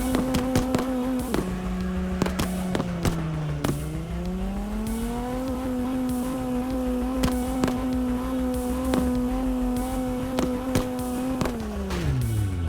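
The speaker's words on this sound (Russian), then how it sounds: "Давайте просто вот поставим две машины рядом и будем не отпускать кнопку газа." Two cars in CarX Drift Racing 2 hold their engines at full throttle side by side, giving a loud, steady droning rev whose pitch dips and climbs a few times, with no talking.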